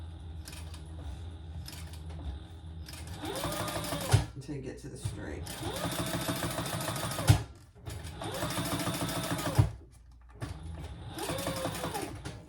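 A sewing machine stitches a leather waist pack near its zipper, running in several bursts of rapid rhythmic stitching separated by brief pauses and clunks, with a person talking quietly between runs.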